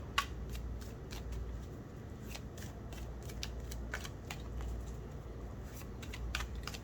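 A tarot deck is shuffled by hand in a quiet setting, with a run of soft, quick card riffles and taps repeating at an irregular pace, close and fairly faint, with no talking.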